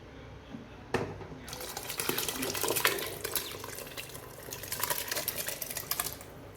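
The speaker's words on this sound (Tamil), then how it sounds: "தண்ணி நல்லா கொதிக்குது." Water heating in a pot on a stove for mutton biryani, a steady bubbling, hissing churn that rises after a short knock and stays moderately loud and close throughout, with no voices.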